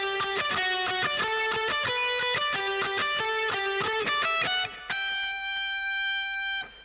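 Electric guitar playing a fast transitional run from Tchaikovsky's Russian Dance, a rapid string of picked, distorted notes ending on a held ringing note, loud and alone.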